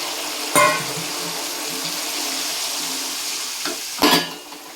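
A cooked mixture of tamarind, jaggery and salt is stirred in a pan for puliyogare, giving a steady wet sizzle with a couple of sharper scraping clacks near the start and near the end.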